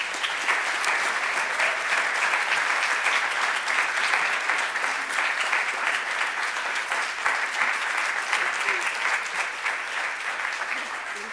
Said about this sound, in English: stand to your feet in applause for our guest